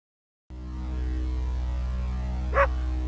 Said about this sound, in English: You can also search for Dog Barking in Distance and place it in the middle of the scene.